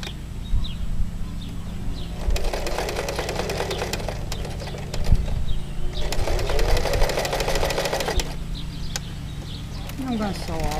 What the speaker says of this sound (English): And we're going to go ahead and start sewing.